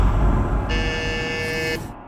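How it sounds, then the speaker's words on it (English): A prototype alarm device gives a single steady buzz lasting about a second, close and fairly loud over a low background rumble, then cuts off. "Okay, just buzzes once."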